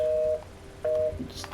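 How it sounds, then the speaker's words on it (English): Two short, clear dual-tone electronic beeps from a phone, spaced about half a second apart, sounding over quiet background noise from a Watch Dogs: Legion game session. "Sorry about that beeping,"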